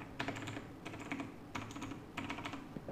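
Bursts of loud, clicky Azio MGK1 mechanical keyboard presses with blue switches, in quick rhythmic runs, close up, with brief pauses between flurries.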